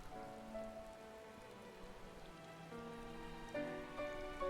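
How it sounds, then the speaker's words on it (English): Rain falling in the video game Final Fantasy XIV: Endwalker, a soft steady patter behind quiet, sustained musical tones, with no talking. "It's just raining."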